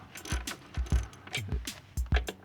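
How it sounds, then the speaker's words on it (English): A ratchet clicks in quick irregular bursts while loosening steel screws on a Jeep JK throttle body with a plastic housing, close and fairly quiet with no talk. "Just gonna break them loose with the socket wrench, and then I'll get the long arm ratchet, cordless ratchet."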